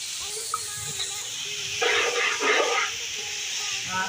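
Onion dropped into hot oil with browned garlic in a pan: a hissing sizzle swells up loudly for about a second, then settles into a softer steady fizz.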